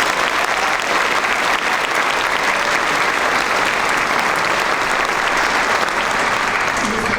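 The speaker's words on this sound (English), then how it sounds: "So we want to give a big round of applause." Steady, dense audience applause fills a school honor band concert hall, loud and continuous throughout with no pauses.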